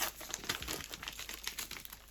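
Continuous crinkling and rustling of plastic packaging being torn open up close, with dense irregular crackles throughout.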